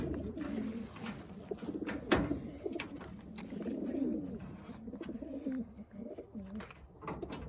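Racing pigeons coo inside a car before release, low repeated throaty coos layered over one another up close, with a few sharp knocks and rustles amid steady cabin noise.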